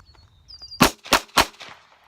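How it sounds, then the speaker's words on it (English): Three sharp gunshots from a Walther CCP pistol crack in quick succession, loud and close outdoors, each followed by a brief echo. "I'm just gonna limit these next shots from this CCP"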